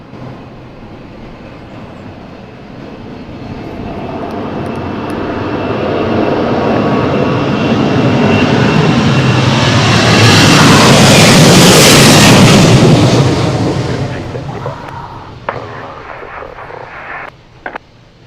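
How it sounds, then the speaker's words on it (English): A heavy airliner takes off at Princess Juliana Airport, St Maarten, its jet roar building steadily to a loud broad peak before fading away, with some clatter afterward and no talking. "That takeoff was exceedingly long because the aircraft to me looked exceedingly heavy."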